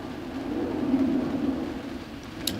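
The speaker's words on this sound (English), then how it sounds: "Bit of rain coming down now." Rain falls on an outdoor lawn during an association croquet world championship match, a soft, steady hiss that continues throughout without talk, with a faint bird-like chirp near the end.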